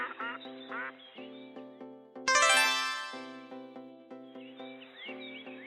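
Ducks on a farm quacking in short repeated bursts, clear and close, with one louder, harsher call in the middle before the quacking resumes at a steady pace.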